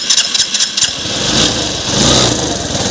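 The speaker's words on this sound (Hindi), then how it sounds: "ये देखिए गाड़ी स्टार्ट किया है," A Suzuki Access 125 scooter with a late-starting problem cranks in a few short bursts, then catches and settles into a loud, steady idle close by, with no talking.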